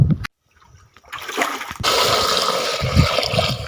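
Water gushes and splashes loudly into containers such as buckets, a jar and pots, with a steady rushing flow after a brief silent gap.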